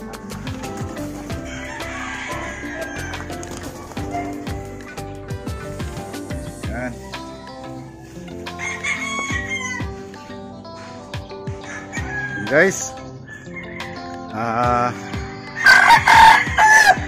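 Hens released on a farm cluck while a rooster crows, with several loud crows near the end; someone talks briefly over the birds.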